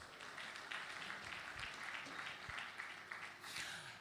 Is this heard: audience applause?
yes